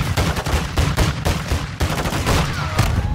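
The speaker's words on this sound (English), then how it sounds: "Let's shoot that knife guy." Rapid gunfire from Call of Duty Modern Warfare II in a prison break mission, loud dense bursts of automatic shots cracking close up and continuously, with no voices.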